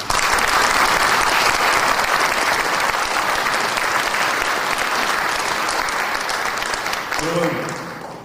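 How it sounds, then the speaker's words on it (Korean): A seminar audience marking the March 1st Independence Declaration anniversary bursts into loud, sustained applause that stays full for several seconds before fading slightly, with a brief voice near the end. "공감하시면 박수 한번 쳐주십시오"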